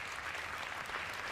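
Applause from an auditorium audience at a college dance competition, a dense continuous patter of many hands clapping, steady and fairly loud throughout with no voices on top.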